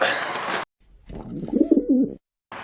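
Baska pigeons cooing close by, a short run of soft low throaty coos lasting about a second, set between bursts of louder broadband noise.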